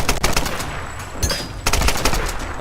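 Rapid gunfire bursts crackle through a Tomb Raider game scene, with repeated sharp shots clustering near the start and again toward the end at steady loudness.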